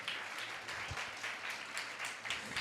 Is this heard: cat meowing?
no